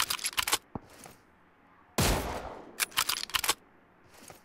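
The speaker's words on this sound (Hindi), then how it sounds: "firing don't do bro, save ammo" Automatic gunfire in the battle royale game BGMI comes in sharp, loud rapid bursts, with short pauses between them and a long sustained volley in the middle.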